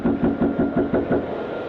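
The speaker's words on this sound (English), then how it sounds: "He knocks once more." Knocking on a front door, picked up by a doorbell camera: a steady series of about six evenly spaced dull raps in under two seconds, fairly close and moderately loud over a faint background hiss.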